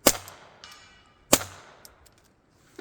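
Two sharp, clipped shots from a rifle fitted with a Gemtech GM-22 suppressor, about a second apart, each trailed by a short echo and faint distant pings from the target.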